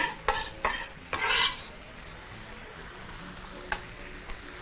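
Beef chilli being stirred in a pot, a few scraping, sizzling strokes of the spoon up front, then a quieter steady sizzle with a couple of faint clinks near the end.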